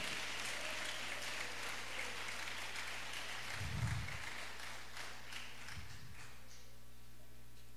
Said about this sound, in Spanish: Alguien dele un aplauso al Señor en esta hora